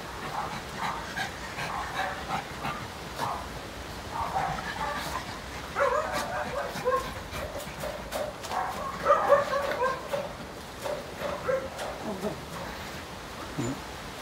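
Dogs at a dog farm in Ben Tre bark, yip and pant continuously at moderate distance, with scattered sharper barks and some faint background voices.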